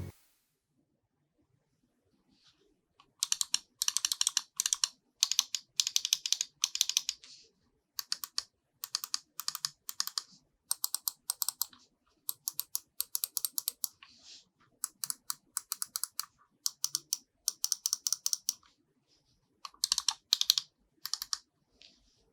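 Rapid sharp clicks from a Razer Viper Ultimate wireless gaming mouse, fired in quick bursts and short runs after a brief silent start. Crisp, close, dry, with nothing behind them.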